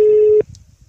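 A telephone busy signal sounds while a call is placed: one loud, steady electronic tone that cuts off abruptly, followed by faint room noise.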